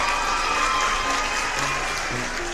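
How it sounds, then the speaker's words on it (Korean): Children at a preschool Sunday school service clap for their teachers, a dense steady patter of applause from a small group indoors, filling the clip with scattered brief voices underneath. "우리 모든 선생님들을 위해서 각자 있는 자리에서 박수 한번 쳐드릴까요?"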